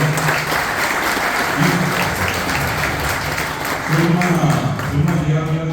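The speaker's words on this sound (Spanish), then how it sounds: "Si pueden, un aplauso para ella." An audience applauds at a celebration of the 40th anniversary of the Ateneo de Lengua y Cultura Guaraní, with sustained clapping that swells and dips through the whole stretch.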